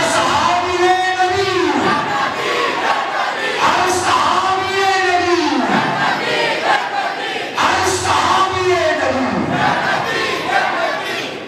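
A large crowd at a Milad gathering in a mosque chants a religious slogan in loud, surging unison, rising and falling in three long waves with brief shouts between them.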